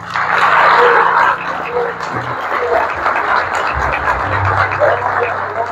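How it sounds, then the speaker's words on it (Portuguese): A church congregation claps, loudest at first and then settling into steady, moderately loud applause. A voice carries on speaking underneath and a low sustained tone hums in the background. "As palmas do Senhor."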